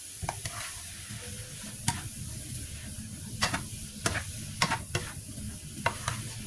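Pork being dry-fried in a pan until crisp, with a steady low sizzle and scattered sharp scraping clicks of a spatula stirring, fairly close, with no talking.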